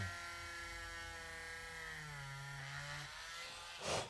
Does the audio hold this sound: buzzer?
no